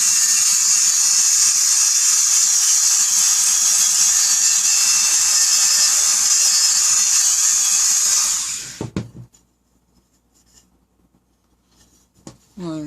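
A Dremel rotary tool sanding parts for an HK G3-style Tippmann A5 paintball marker build: a loud, steady high-pitched whine runs for about eight seconds, then cuts off and spins down, leaving a few small handling clicks.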